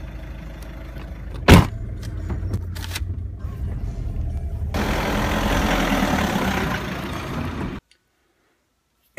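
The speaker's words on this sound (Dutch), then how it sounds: "Alsof ik in die auto stap en wegrij." A car door thuds shut, the engine idles briefly, and then the car drives away with a louder, steady road roar that cuts off abruptly into silence.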